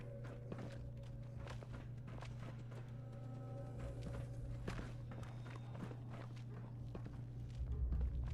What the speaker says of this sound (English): I can hear their slimy footsteps.